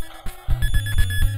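A low-health warning alarm in the NES Teenage Mutant Ninja Turtles game, a shrill electronic beeping tone repeating rapidly over chiptune game music, loud and close.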